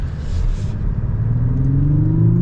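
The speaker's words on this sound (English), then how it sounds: "Forgot how much I love the sound of this engine too." A 2022 Lexus LS 500 engine accelerates with a deep, steady rumble, building smoothly in pitch and loudness as the car picks up speed.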